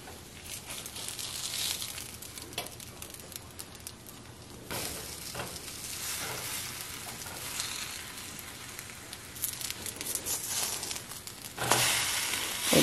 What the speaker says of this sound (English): just give them a few minutes on each side, cook until they are golden brown